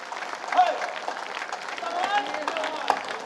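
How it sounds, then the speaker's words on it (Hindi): A crowd applauds at a patriotic Hindi poetry recital honouring Maharana Pratap, dense clapping spread over a few seconds with scattered cheers and voices mixed in. "तो एक बार अपनी तालियों का अभिषेक महाराणा प्रताप के मस्तक पर कर"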